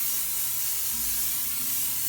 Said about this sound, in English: I'm going to spray it a little bit more on top of that.